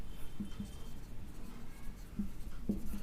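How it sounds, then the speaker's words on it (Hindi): Chalk taps and scrapes on a board as a maths equation is written, with faint, sparse strokes over a quiet room and no talking. "तो यहाँ पर भी मैं इक्वेशन लिख देता हूँ।"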